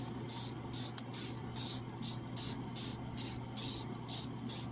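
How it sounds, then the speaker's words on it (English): Starch sprayed heavily onto quilting fabric, a rapid series of about a dozen evenly spaced hissing bursts from a close pump spray bottle over a faint steady hum. "I'm starching it heavily, and then I'm drying all the starch with my iron"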